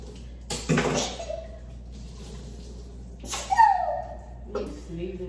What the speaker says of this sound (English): You sneezing and shit.